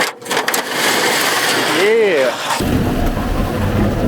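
An old farm firewood rig's motor starts and builds into a rough, loud mechanical drone after a brief rising whine. A voice speaks over it.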